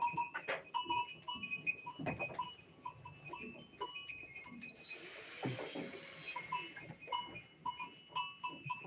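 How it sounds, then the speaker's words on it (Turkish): Several Saanen goats bleat repeatedly, some close and some farther off, overlapping in a busy farmyard with a burst of rustling noise midway. "bunlar sahnen keçisi"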